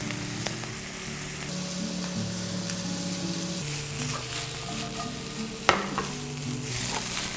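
Onion and oyster mushrooms being stir-fried with meat for a Chinese-style doubanjiang pasta: a continuous crackling sizzle, scattered spatula scrapes and one sharp knock near the end.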